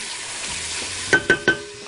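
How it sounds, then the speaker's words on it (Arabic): Onions sauté in a small casserole pot with a soft, steady sizzle, then three quick scraping stirs close by near the end, with no talking. "اشوح عندي البصل"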